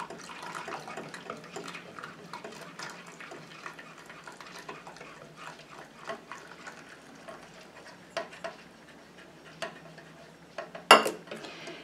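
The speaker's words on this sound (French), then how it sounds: "Je continue à mélanger comme ça jusqu'à ce que mon émulsion épaississe et refroidisse." A foot balm emulsion is stirred in a container as the water phase is mixed in, giving faint continuous wet swishing and light clinks, with a sharper tap near the end.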